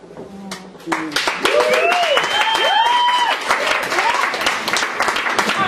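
An audience at a poetry slam breaks into applause after a poem, dense clapping that swells and holds, with cheering and whooping voices rising over it.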